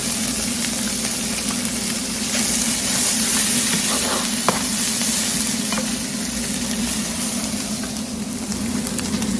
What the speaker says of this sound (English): That's going to start all the sizzling.